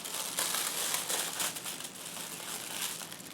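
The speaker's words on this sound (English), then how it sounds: "kind of a big rectangle out of this plastic bag" A plastic bag is cut and crinkled by hand, giving close, bright rustling and crackling in uneven bursts with no talking.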